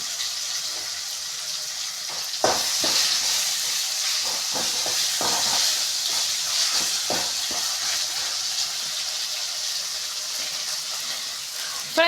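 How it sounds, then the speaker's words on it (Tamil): Chopped tomatoes sautéing in a pan for Tamil chicken thanni kulambu, a steady broadband sizzle and hiss throughout with a few sharper crackles and stirring knocks, close and fairly loud, no talking. "ஸோ இப்போ கட் பண்ணி வச்சுருந்த தக்காளி போட்டுட்டு நல்லா வதக்கிக்கலாம்."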